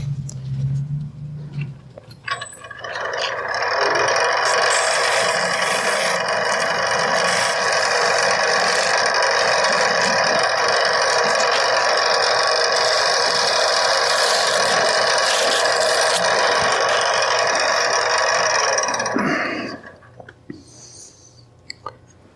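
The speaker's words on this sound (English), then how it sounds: "we'll just touch it with a little sandpaper" Sandpaper is pressed against a spinning turned wooden top on a lathe, giving a steady, loud, broad rasping hiss that lasts about seventeen seconds and then stops.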